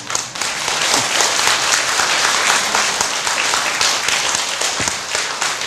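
A temple Saturday dharma service congregation breaks into sustained applause, dense even clapping from a roomful of people lasting several seconds.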